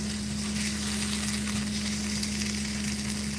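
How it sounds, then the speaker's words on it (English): Onions frying in a pan on a stovetop make a dense, even sizzle that holds steady for a few seconds, close by, with a faint underlying hum and no voices. "I also have some onions that I have cooking up so that I can add in my spinach with"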